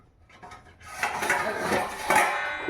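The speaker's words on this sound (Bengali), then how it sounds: "ঢাকা এই যে ঢাকা দিয়ে দিলাম" A metal lid clatters onto a cooking pot in a home kitchen with a fish curry nearby, giving a few close, bright clanks and a scraping settle after a quiet start.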